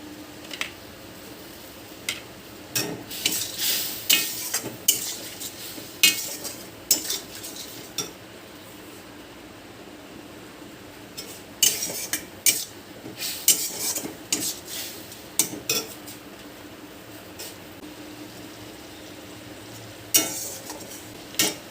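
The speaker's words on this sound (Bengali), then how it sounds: "তো মশলাগুলোকে একটু ভেজে নেব। এবার দিয়ে দিলাম কাঁচামরিচ," Spices and green chillies fry in a pan while a metal utensil stirs, giving bursts of scraping clatter over a soft background sizzle, with quieter gaps between the stirring spells.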